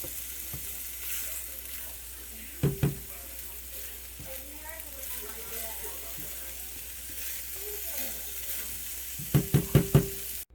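Sausage browns in a pan with a low, even sizzle, broken by a few sharp knocks of a utensil against the pan, early and in a quick cluster near the end.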